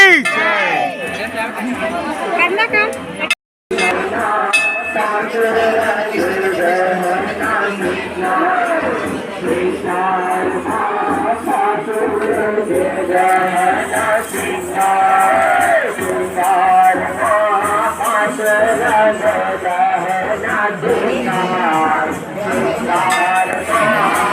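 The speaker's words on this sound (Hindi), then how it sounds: "खतरनाक भीड़।" A dense, noisy festival crowd packs the Garjai Mata temple at Madanpur, Gariaband, on Panchami, with constant close babble and voices talking throughout.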